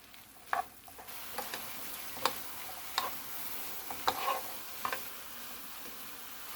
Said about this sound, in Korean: 이제 이렇게 저어가면서 콩에 양념이 배어들고 콩껍질이 쭈글쭈글해질 때까지